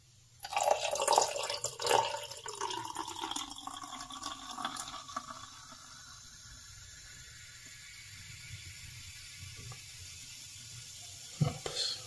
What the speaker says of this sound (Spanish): Y ahora pues simplemente le agregamos el cava.